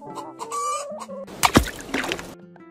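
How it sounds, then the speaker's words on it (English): A hen toy gives a short run of clucking calls, followed by a louder burst of squawking noise, close and clear with no talk. "Hen."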